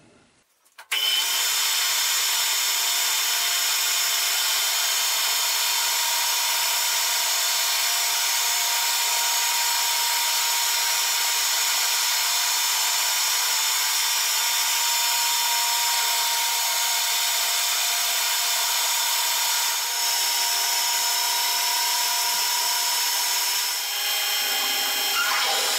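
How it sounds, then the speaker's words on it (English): A power drill bores steadily into scrap metal while making a live centre, a loud continuous whine that holds almost unchanged for about twenty-five seconds after a sudden start, close and alone without speech. "So now first I will drill here and make the boring to install"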